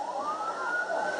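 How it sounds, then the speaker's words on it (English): A wailing ambulance siren rises and holds steady, sounding somewhat distant as the ambulance leaves Johnson Park in New Ulm, with no talking. "That is the siren in the background."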